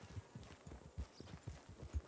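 A horse's hooves clip-clop at a walk in Red Dead Redemption 2, with soft, evenly spaced thuds in a steady rhythm, faint and with no talk.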